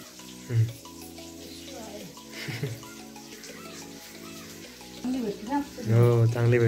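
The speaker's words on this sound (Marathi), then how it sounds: "आणि इथे मस्त की फिश फ्राय होते।" Fish that was marinated for fifteen minutes fries Malvani style in a pan. A low sizzle runs beneath people talking throughout, with a louder burst near the end.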